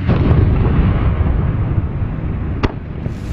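Bombs exploding over London during the Blitz, a loud, rumbling roar of blasts with a sharp crack near the end, dense and continuous like archival wartime footage.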